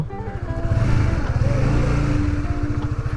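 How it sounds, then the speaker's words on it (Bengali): A Honda CBR Repsol edition motorcycle with about 50,000 km on it and a faulty meter, its engine droning steadily and loudly up close while being ridden. "অনেক দিন পর সিবিআর চালাচ্ছি আমার সিবিআরের হচ্ছে রেপসো এডিশনটা ছিল"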